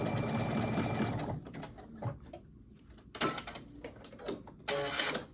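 Home sewing machine stitching the neckline of a Vogue 1835 garment, running in a loud steady whir for over a second, then breaking into short bursts of stitching and clicks of handling fabric, with a final strong run near the end.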